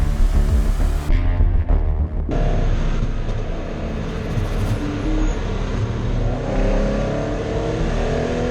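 Race cars at Donington Park pulling away at the start of a race, a loud sustained engine roar with rising revs that fills the clip, near and continuous with no voices.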